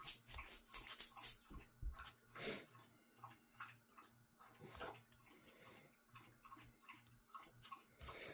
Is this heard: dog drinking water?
yes